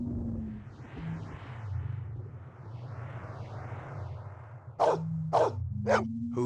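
Maggie the dog in Blade Runner gives a quick run of four sharp barks near the end, close and loud, after a stretch of low ambient drones and whooshing synth tones.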